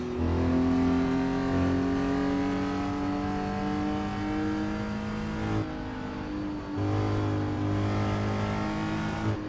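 Engine of a 1967 Porsche 911R driven in Assetto Corsa at Schottenring, a sustained close engine drone holding steady pitch, with brief dips near mid-clip as throttle lifts and returns.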